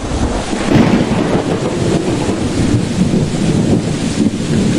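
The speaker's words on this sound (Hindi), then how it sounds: "तभी अचानक तेज बारिश होने लगी।" Steady, dense rain roars throughout, broad and hissing with a low rumble underneath, like a heavy downpour blown by wind.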